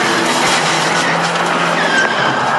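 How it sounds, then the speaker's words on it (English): NASCAR race car wrecking on track in turn 3, heard from onboard as loud engine roar with squealing, skidding tires, close and continuous with no talk. "getting down into turn 3, when you see him wrecking in front of you"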